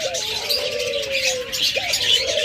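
Low, drawn-out cooing from caged ghughu doves repeats a couple of times beneath a constant, loud twittering of many small aviary birds, steady throughout with no speech.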